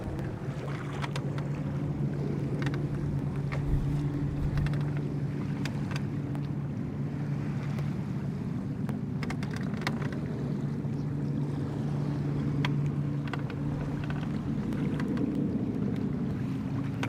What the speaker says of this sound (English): The wind is very aggressive.